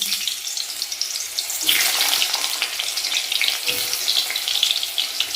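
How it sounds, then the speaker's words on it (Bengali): Thin-sliced pumpkin goes into hot oil and sets off a sudden, loud sizzle that swells into steady, close crackling frying. Before that there is only a quieter hiss. No talking. "আর দেখো আমার তেলটাও গরম হয়ে গেছে, আগে কুমড়োটাই ভাজতে দিয়ে দিই।"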